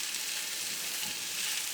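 Mushrooms frying in a pan with chicken and thyme, giving a steady, close sizzle with a faint stirring scrape, constant and unbroken throughout.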